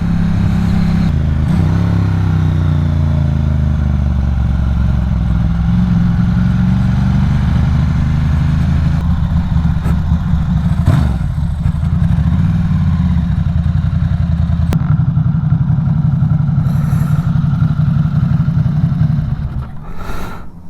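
Motorcycles pull up and sit idling, a steady loud engine rumble with a few revs and clatter over about twenty seconds before cutting off near the end.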